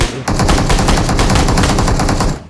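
Rapid bursts of SKS rifle fire in a video game crack in quick succession, loud and close, with sharp repeated shots lasting a couple of seconds.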